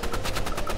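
A short, fast burst of automatic gunfire in the shooter game Rivals, evenly spaced rapid shots firing in a tight rhythm for under a second.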